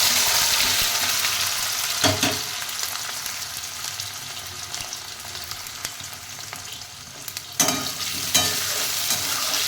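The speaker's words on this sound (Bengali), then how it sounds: "এবার এই তেলে আমি আলু ভেজে নেব" Parboiled potatoes fry in hot oil with a steady bright sizzle, broken by a few sharp scrapes and stirring clatters of a spatula in the pan.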